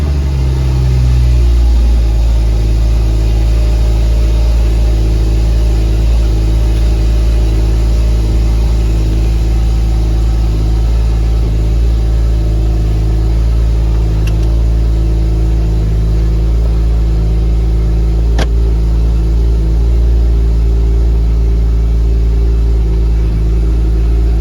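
A Porsche GT4 engine fires up loudly, then settles into a steady, droning run that continues for the rest of the clip, heard close and with no talking.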